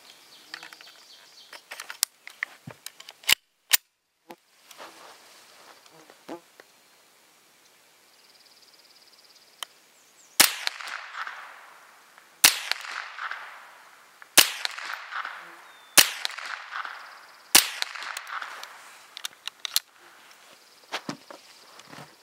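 Sharp, close cracks ring out from a rifle firing Winchester T22 ammunition outdoors on an evening range. There are roughly ten single shots spaced a second or more apart, with faint birdsong in the quiet gaps.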